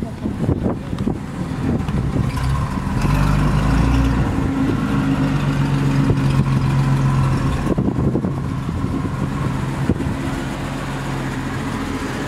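Straight-six engine of a 1938 Chrysler Royal C18 convertible idles steadily up close, a low continuous rumble with wind buffeting the microphone throughout.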